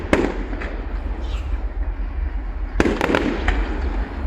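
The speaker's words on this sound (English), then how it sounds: "This is your Rhyl firework display for 2025" Fireworks at the 2025 Rhyl display crackle and boom in bursts, a sharp volley at the start and another cluster later, with distant voices underneath.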